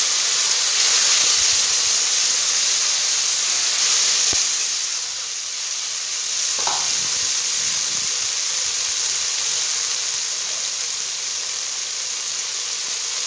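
Ground spice paste hits a hot pan while cooking koi fish curry with cauliflower and potato, a loud, steady hissing sizzle that eases slightly after a few seconds and keeps going, with no speech.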